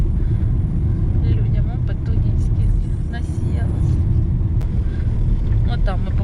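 A car drives along a rural road in Ukraine's Kirovohrad region, its engine and tyre rumble a constant, close drone while people talk inside.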